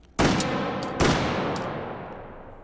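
An antique gun fires in the VR shooting game H3VR, two loud, sharp shots about a second apart, each with a long, echoing decay and mechanical clatter.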